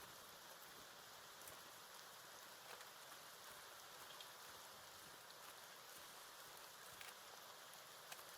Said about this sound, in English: The rain does make it a little hard to hear footsteps